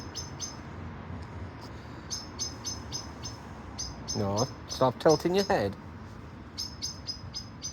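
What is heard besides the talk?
birds chirping outside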